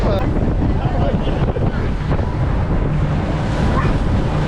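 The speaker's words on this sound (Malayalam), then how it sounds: "നല്ല സ്പീഡിലാണ് ഈ ബോട്ട് പോകുന്നത്" A speedboat races fast through choppy water on a trip through Malaysia, with a loud, steady rush of engine, hull slap and wind buffeting the microphone throughout.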